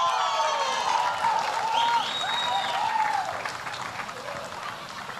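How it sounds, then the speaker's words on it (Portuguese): An audience applauds and cheers at a Black culture celebration in Bahia, with steady, loud clapping and scattered whoops that hold for several seconds and then ease off slightly toward the end. "Pode aplaudir!"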